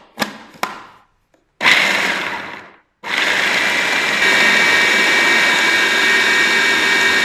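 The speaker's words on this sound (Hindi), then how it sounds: "तो अब जो है इस मिक्सचर को हमने ब्लेंड कर लेना है।" A kitchen blender whirs through a chickpea falafel mixture with garlic and onion, starting in two short pulses, then a longer burst that winds down, followed by a steady loud sustained grind to the end.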